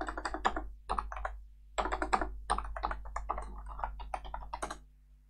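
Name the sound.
typing system password on computer keyboard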